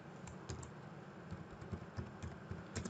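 Light, quick clicking of keys on a computer keyboard as an address is typed in, with a soft, uneven rhythm and short pauses between bursts.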